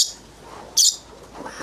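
A red-sided eclectus parrot at a bird park gives two short, shrill screeching calls, one at the start and a louder one midway, with quiet background between them.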